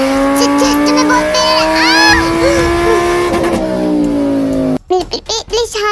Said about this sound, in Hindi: प्लीज शांत हो जाओ जंगसुक, शांति से गाड़ी चलाओ